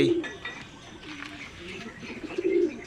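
Homing pigeons arriving back from a first club training flight, with soft low cooing calls repeating through the clip amid outdoor background noise.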